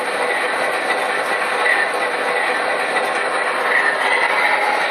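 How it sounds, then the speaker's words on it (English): A model subway train runs on a layout while reversing under remote control, giving a steady close whirring hum with faint wheel clatter that is continuous and unbroken, with no voices. "I'm going to bring the subway back in reverse."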